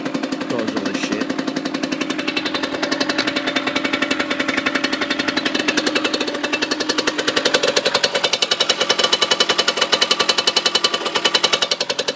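A motorcycle engine idles while warming up, a fast steady pulsing chug heard close up and alone, holding an even rhythm with a slight rise in intensity partway through.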